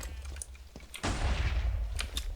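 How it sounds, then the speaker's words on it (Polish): Sheep exploding in the Minecraft Sheep Wars game: a sudden loud blast about a second in, followed by a sustained rumbling roar that stays loud to the end, with quieter clicks and pops before it. "ta pomarańczowa to ona jakby ma większy wybuch"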